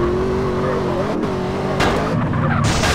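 A car in the GTA MTA roleplay video game revs and drives continuously, its engine pitch wavering, with tire skidding sounds emerging toward the end; loud and close throughout.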